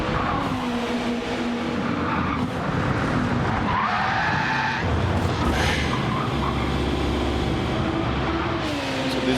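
A race car in the FlatOut racing game at the Nürburgring comes hot out of a corner, spins with loud tyre squeal and skidding, and hits the inside wall amid continuous engine roar.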